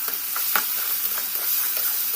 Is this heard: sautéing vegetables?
yes